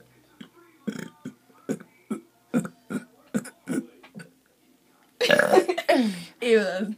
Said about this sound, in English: A burp is always disgusting.